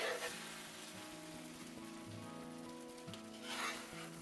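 Pasta spread across a hot pan fries and chars with a soft, steady sizzle and crackle, faint and continuous, swelling briefly near the end.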